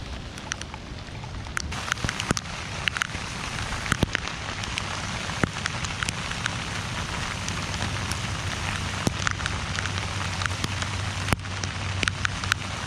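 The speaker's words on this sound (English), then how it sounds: "Raining a little bit more now." Steady rain patters on surfaces around a pirogue during a Louisiana teal duck hunt, a constant close wash of drops with sharper individual plinks scattered throughout and no voices.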